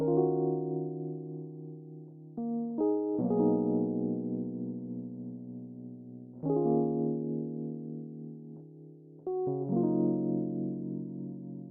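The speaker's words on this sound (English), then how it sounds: "I just literally did some chords on a Rhodes piano that sounded like this" Mellow Rhodes electric piano chords sustain and change every few seconds, warm and rounded, each slowly fading before the next is struck.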